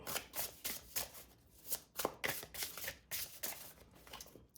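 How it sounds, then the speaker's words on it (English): A 100-card oracle deck is shuffled by hand in a rapid series of papery riffles and soft slaps, fairly close and quiet, with no voices. "this shuffles pretty well. It is 100 cards"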